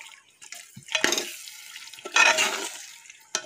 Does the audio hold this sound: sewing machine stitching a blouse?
no